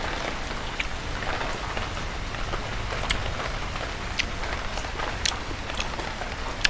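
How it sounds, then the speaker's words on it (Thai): Steady rain patters densely on a surface, with occasional sharper drips standing out; no voices. "อาจจะมีเสียงฝนด้วยนะคะ ฝนตกแสบ"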